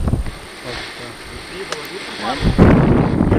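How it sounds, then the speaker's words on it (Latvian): A single loud gunshot fired from a standing position on a shooting range, a sharp blast that rings out amid outdoor wind noise, with a voice speaking before it. "Un es saku Vērot un Šaut, un izšaujam stāvus."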